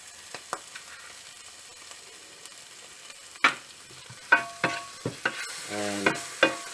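Breadcrumbs fry and get stirred in a pan while cooking a stuffing for an oyster-stuffed steak. A low sizzle runs under repeated sharp scrapes and knocks of a utensil, which grow louder and closer together in the second half.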